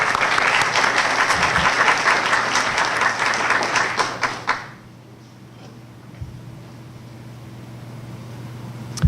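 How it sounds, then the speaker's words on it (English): An audience applauds a guest speaker at a landscape summit, dense steady clapping for about four and a half seconds that cuts off abruptly into quiet room hum, with a few faint bumps afterward. "Let's give him a brief round of applause."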